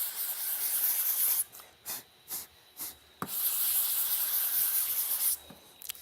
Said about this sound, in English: You can cover a lot of the sprocket if you do it on a long board sanding block like I'm showing you right here.